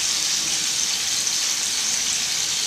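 Paneer pieces fry over low heat in a pan for a paneer tikka starter, giving a steady, close hissing sizzle that stays even throughout with no talking.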